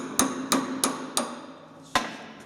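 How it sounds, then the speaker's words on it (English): A bigger hammer strikes a seized threaded part on a 4-jaw chuck, landing four sharp metallic blows in quick succession, then one more after a short pause, close and ringing. "Bigger hammer? The bigger hammer."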